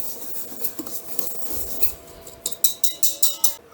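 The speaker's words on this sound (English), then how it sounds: "just get my whisk in there and just give those a wee bit of a whisk around just to mix them all" A whisk scrapes and rasps through sugar and dry ingredients in a mixing bowl for wheaten date scones, first in soft irregular strokes, then a run of about six sharper, evenly spaced taps against the bowl.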